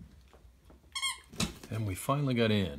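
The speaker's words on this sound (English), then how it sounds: "if you hear squeaking in the background, that's my dog playing." A short burst of squeaky-toy squeaks from a dog playing sounds briefly in the background, followed by a person speaking up close.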